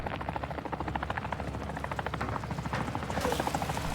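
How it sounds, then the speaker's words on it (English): A helicopter arrives in Call of Duty Warzone 2.0, its rotor producing a loud, fast, rhythmic chopping thump that holds steady and swells slightly toward the end. "And watch this when the helicopter comes in."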